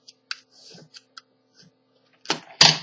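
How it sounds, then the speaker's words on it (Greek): Scissors press into and snip a plastic drinking straw. A few small, quiet ticks and clicks come first, then two sharp, crunchy cuts close together at the end. "Πατάτε με το ψαλίδι στο καλαμάκι"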